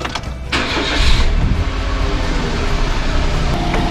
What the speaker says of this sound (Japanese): 30分ぐらいエンジンかけます。